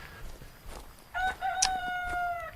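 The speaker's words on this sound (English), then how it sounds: "right now I heard a bloody chicken again" A rooster crows once in the colony-builder game Medieval Frontiers, a clear, fairly close cock-a-doodle-doo with a long sustained final note, over faint ambient game background.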